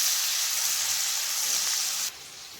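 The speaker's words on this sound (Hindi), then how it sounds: "प्याज के बाद तुरंत आप डाल दोगे इसमें टमाटर और फिर हम डालेंगे इसमें काजू और इसको भून लेंगे" Onion, tomato and cashews frying together in a pan for dhaba-style shahi paneer masala. A loud, steady hiss carries on alone for about two seconds, then drops suddenly to a softer sizzle.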